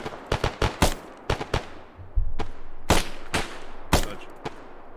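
Rapid bursts of gunfire in the military shooter ArmA: sharp, loud cracks come in uneven clusters over a low ongoing rumble, some shots close and others echoing farther off.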